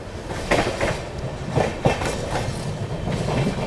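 Amrit Bharat Express passenger train (22361, Patna to New Delhi) rolling on track at moderate speed near Khurja, with rhythmic wheel clicks over rail joints under a steady rumble, heard from onboard.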